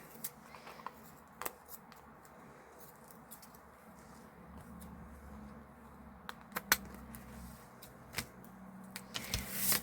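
Scissors trim small wax-coated craft pieces, including film strip and pink material. The snips are faint, scattered and crisp over a quiet room, with a few sharper cuts near the end.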